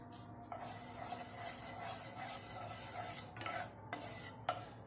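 Curd being stirred in a hot pan while making mango semolina halwa, faint soft scraping and stirring strokes with a low background hiss, no talking.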